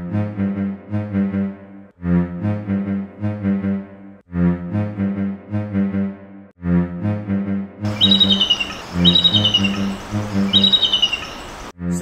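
An eagle gives repeated chirping, twittering calls in bursts, then shrill high-pitched screeches cut in over them near the end.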